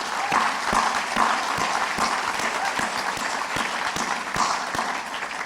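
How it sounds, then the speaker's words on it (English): Sustained applause from an audience at a city's annual state of the city address, dense steady clapping from a crowd filling the hall. "Let's give them a round of applause."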